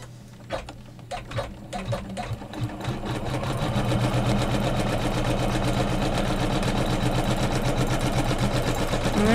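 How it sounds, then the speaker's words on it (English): A computerized embroidery sewing machine stitches a quilted flange pillow, starting with a few separate needle thumps before settling into a fast, steady, rhythmic whirring chatter close up. "now I'll hit start, so it'll finish tying that one off, and then it'll come over and it'll stitch this second one down"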